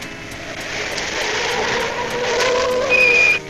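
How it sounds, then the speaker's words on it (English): A cartoon car slows with a rising, squealing brake screech over a rumbling engine noise, loud and close, and the squeal sharpens into a thin high whine near the end. "I better take a look at those squeaky brakes."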